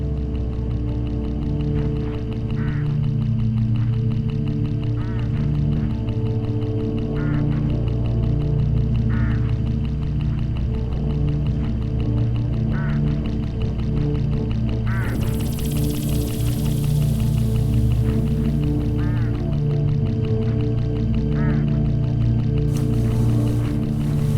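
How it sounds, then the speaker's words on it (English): Hooded crows calling along a country road in the video game Hitchhiker, with short cawing calls repeating at intervals over a steady ambient drone and a hiss that rises midway. "Look, hooded crows all along this road."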